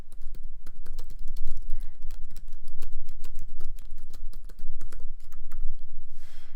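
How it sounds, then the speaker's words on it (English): Rapid, steady typing on a computer keyboard while entering text for a children's picture book layout, dense clicking keystrokes close up and continuous for several seconds, alone with no talk. "create your text box, and you can type your story in here"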